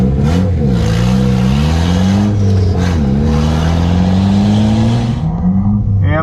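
A Tesla Plaid electric car on a drag strip, lined up against a truck for a top-speed run, giving a loud close vehicle drone with rising and falling whine tones that fade near the end.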